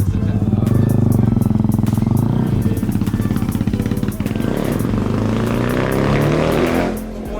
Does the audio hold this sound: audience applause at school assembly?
no